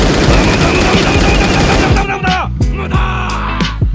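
Rapid punch barrage from a Roblox stand fighting game, a loud dense stream of rattling hits like machine-gun fire that breaks into separate sharp impacts and whooshes toward the end.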